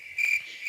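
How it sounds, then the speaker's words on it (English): A cricket chirping sound effect plays after a joke: a single short, clear, high chirp trill heard on its own, with no talk. "I use those crickets a lot."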